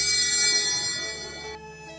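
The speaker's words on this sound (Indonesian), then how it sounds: "Petugas lonceng membunyikan lonceng panjang pada saat pastor membungkuk." At Mass, an altar bell rings out in a long, bright peal of many quick strikes, fading slightly before cutting to a softer ring.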